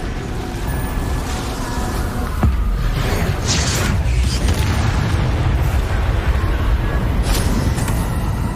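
The Confringo explosion spell in the Hogwarts video game gives a sustained, rumbling blast over dense game noise. A few sharper bursts follow, loud and continuous.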